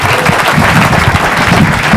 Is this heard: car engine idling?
no